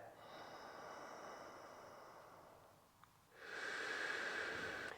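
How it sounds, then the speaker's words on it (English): Slow, deep abdominal breathing during a guided diaphragm-release exercise, heard alone and close: a long, soft airy inhale fades into a pause, followed by a stronger, fuller exhale. "So I'm trying to encourage a low, slow, deep abdominal breath."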